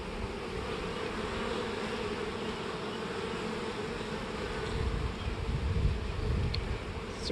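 Honeybees building worker comb on foundationless Langstroth frames, a dense, steady hum of many wings swelling slightly toward the end, heard close and alone without voices.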